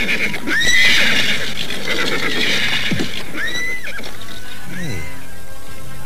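Horses whinny several times amid faint hoofbeats while riders travel toward a city gate, the neighs loud and close over a steady background.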